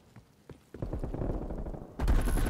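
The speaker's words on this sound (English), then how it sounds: "Who the fuck is shooting at me?" Automatic gunfire in Call of Duty: Black Ops Cold War starts with a few scattered shots, then breaks into a rapid rattling burst that grows sharply louder and closer toward the end.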